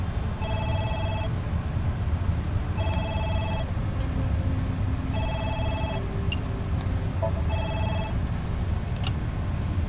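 A telephone rings in four evenly spaced electronic bursts, each a trilling tone lasting under a second, over a steady noisy background hum.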